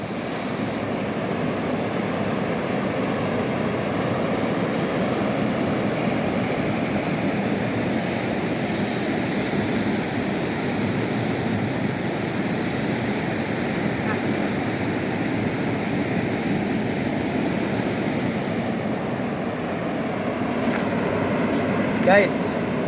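Surf rolling in at the west side of Pangandaran beach, a steady, unbroken wash of breaking waves with wind roar throughout, no voices.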